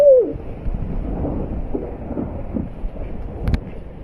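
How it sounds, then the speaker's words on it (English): Low thunder rumbles on and off through a thunderstorm with heavy rain and gusty wind, a deep continuous roll with a few swells, heard at moderate distance without talk. "I caught thunder, lightning."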